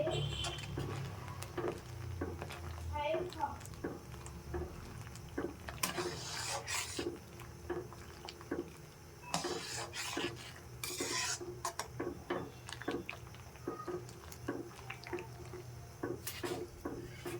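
Vermicelli (semai) being stirred in a pan: repeated close scraping and rasping strokes of a spoon against the metal, with irregular rhythm and occasional brighter rubbing bursts, and no speech.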